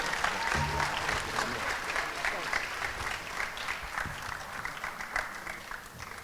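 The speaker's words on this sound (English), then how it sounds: "Let's give them a round of applause" An audience at a school-year kickoff event breaks into a round of applause, a continuous fairly quiet roll of many people clapping, heard from a slight distance with a few faint voices beneath it.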